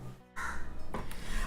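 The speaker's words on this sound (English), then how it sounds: "that's why the crows are so loud" Crows caw loudly nearby, a couple of harsh, raspy calls following a brief quiet moment.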